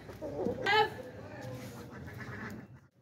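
A hungry rooster lets out one short, sharp call near the start, with low voices talking in the background.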